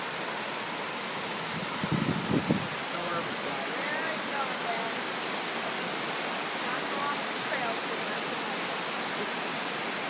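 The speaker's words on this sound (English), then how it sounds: "Beautiful waterfall." A waterfall sends up a steady, broad roar that fills the scene at close range. A brief voice cuts in once near the start.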